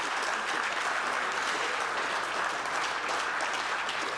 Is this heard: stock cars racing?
no